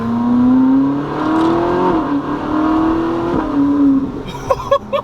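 Ferrari 458 Spider V8 engine accelerating hard, a loud rising wail that climbs and dips through a couple of gear shifts, ending with sharper pops and crackles.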